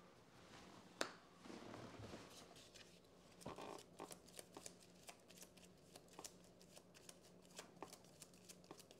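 A deck of game cards for the Kingdom Death board game is shuffled by hand in repeated quick riffles and snaps, close and fairly quiet, with no voices.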